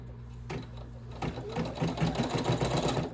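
Embroidery machine stitching an appliqué placement line, a steady rapid mechanical hum with a dense rhythmic needle chatter, close and continuous after a brief start-up.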